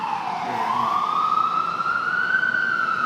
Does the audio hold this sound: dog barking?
no